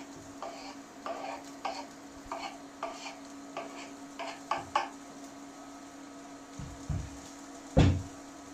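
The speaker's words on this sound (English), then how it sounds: "You can hear that they're starting to sizzle. The oil's nice and warm." Onions sizzle softly in warm oil in a pan while a spoon scrapes and stirs in irregular bursts, ending with a louder clunk.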